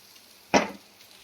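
Fish heads hit hot oil in a frying pan with one brief, bright burst of sizzle that fades quickly into a quiet background, with no talking.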